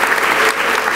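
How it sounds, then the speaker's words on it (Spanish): A church congregation bursts into loud, close applause during an evening service, a dense, steady roar of many hands clapping at once. "te damos el mejor aplauso de toda la noche a ti, Señor Jesús"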